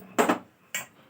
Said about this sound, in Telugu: గిన్నె పెట్టేసిన